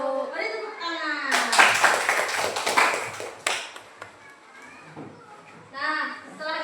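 Students in a classroom give a short burst of applause, a loud crackle of many hands that lasts a couple of seconds, with a teacher and children speaking before and after it.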